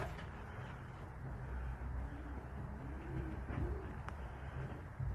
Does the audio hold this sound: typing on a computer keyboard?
no